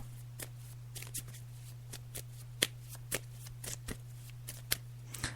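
Tarot cards are shuffled by hand in steady, soft riffling flicks, a dozen or so quick papery snaps spread across the stretch, close but quiet over a constant low electrical hum.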